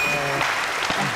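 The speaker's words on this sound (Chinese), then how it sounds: "给他安慰的掌声。" Brief burst of consolation applause from a television quiz show studio audience, short and moderately loud with a few distinct claps and some voices mixed in.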